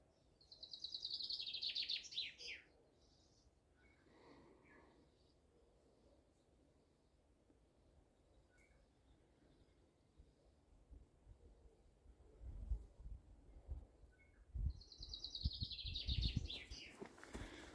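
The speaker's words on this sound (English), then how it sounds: "very nice wee bird in the background already." A small bird sings bright, high chirping phrases at the start and again near the end, fairly close, over quiet outdoor background with some low rumbling.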